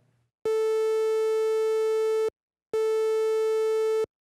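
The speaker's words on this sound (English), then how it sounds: "I'm going to switch it to the triangle sawtooth waveform." A Behringer Model D synthesizer on its triangle sawtooth waveform sounds two long, identical sustained notes, each nearly two seconds, buzzy and rich in harmonics, separated by a brief gap, with nothing else heard.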